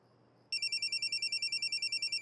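A phone rings for an incoming call with a rapid, steady electronic ringtone pulsing loudly in a quiet indoor scene. The ringing starts abruptly and repeats evenly.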